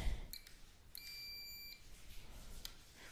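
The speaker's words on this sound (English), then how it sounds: "When it's centered, you'll hear that long beeping tone." A Spektrum DX5E radio controller gives a long, steady high-pitched beep with its trims centered, preceded by a few short chirps, faint and alone in a quiet room.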